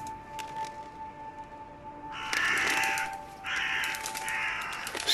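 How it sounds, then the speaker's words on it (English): Crows in the video game Fallout 4 give two loud bursts of harsh cawing, close and fairly long, over a quiet ambient hum with no talk. "Some more crows."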